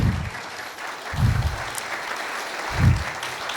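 An audience applauds a guest, Harjeet Brar, in bursts of clapping that swell and fade, with a low thumping recurring under a steady crowd wash.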